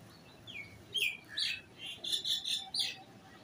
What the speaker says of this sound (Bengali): এই একটা বাচ্চা পায়রা দেখুন